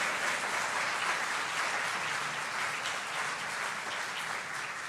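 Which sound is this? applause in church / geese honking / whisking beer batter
applause in church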